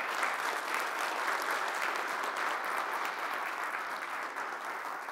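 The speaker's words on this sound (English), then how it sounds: "Give them a big round of applause." Steady, dense applause from a conference audience at a university venue, sustained and fairly loud throughout with no break.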